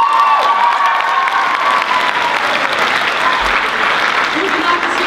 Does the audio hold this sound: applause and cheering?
yes